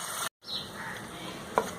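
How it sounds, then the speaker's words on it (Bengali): Shrimp frying in a hot pan gives a soft, steady sizzle, broken by a brief silent gap and a single faint clink near the end, with no voices. "চিংড়ি মাছ ভাজা হয়ে গেছে"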